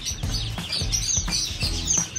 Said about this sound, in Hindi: यहाँ पे भी चूजे हैं